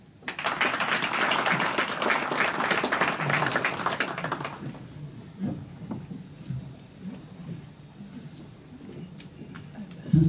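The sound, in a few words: applause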